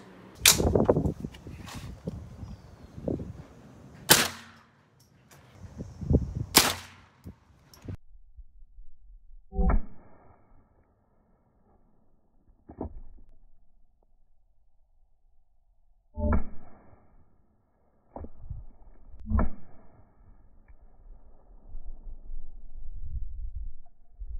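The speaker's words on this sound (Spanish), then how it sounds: "vamos a ver los disparos" Sharp gunshot cracks hitting a plastic target, a few loud ones early, then a slower string of fainter impacts with short gaps, heard without any talking.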